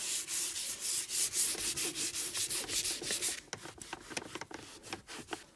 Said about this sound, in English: Now I'll use some 800 grit on it.